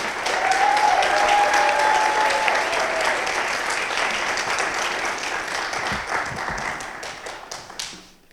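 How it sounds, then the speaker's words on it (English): Sustained applause from a graduation audience honoring the class of 2022, dense steady clapping filling the room before thinning out toward the end. "please give another round of applause to the graduating class of 2022"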